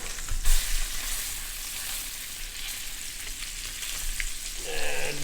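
Rainbow trout fry in a pan over a lowered flame, giving a dense, continuous sizzle and crackle that stays close and steady throughout, with no voices.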